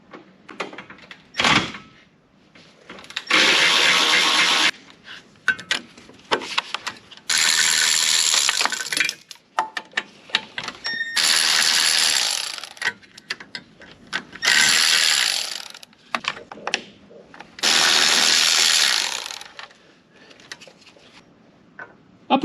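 Ratchet wrench backing out 13mm bolts on a 2005-08 Audi A4 B7 2.0 turbo FSI engine during a timing belt job: repeated close bursts of rapid clicking separated by short pauses, with no talking.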